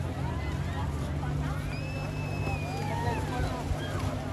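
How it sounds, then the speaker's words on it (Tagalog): A motorboat speeds past on the water off a Puerto Galera beach, its engine a steady low drone beneath wind, lapping waves and nearby chatter from people on shore. "Ito naman, motorboat."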